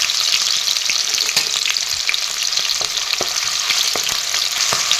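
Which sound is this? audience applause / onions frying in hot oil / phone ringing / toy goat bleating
onions frying in hot oil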